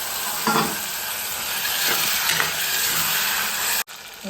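Mustard seeds, cumin, asafoetida and potatoes fry in oil, giving a loud, close sizzling hiss broken by a few stirring scrapes and taps, with a sharp clunk near the end.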